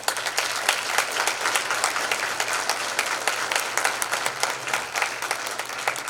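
An audience at a high school National Honor Society induction ceremony applauds new members with steady, dense clapping from a sizable crowd, continuous and evenly sustained throughout.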